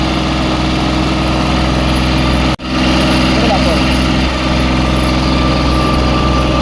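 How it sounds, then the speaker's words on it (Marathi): A small farm tractor idles in a grape vineyard, a steady, loud, low mechanical chugging drone that runs throughout with a brief dropout midway, while someone talks over it. "आता महेश भाईचा हा लहान ट्रॅक्टर."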